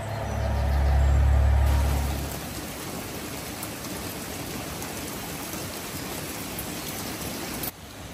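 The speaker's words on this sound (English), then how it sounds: "Of course, it started to rain" Spring rain falls steadily over chateau grounds near a walled garden, an even hiss of drops continuing for several seconds after a brief low rumble at the start.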